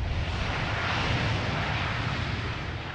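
A fixed-wing airplane roars overhead near O'Hare airport, a loud, continuous broadband engine rush that stays strong throughout and eases slightly at the end.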